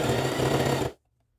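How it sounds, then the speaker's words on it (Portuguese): A sewing machine stitching a fabric tea towel border, running in a fast, continuous whirring burst for about a second before stopping abruptly into silence. "vamos lá na máquina costurar"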